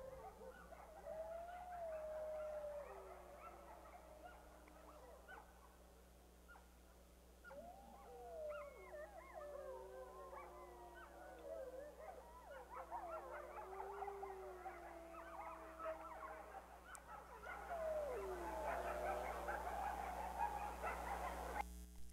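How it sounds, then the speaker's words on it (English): A chorus howl from a couple of adult wolves and a group of pups of a wild pack rises and falls for over twenty seconds, long wavering howls mixed with higher yips and whimpers, heard from a distance. "So that was a chorus howl of a couple of adults and a group of pups from the Sullivan Creek Pack"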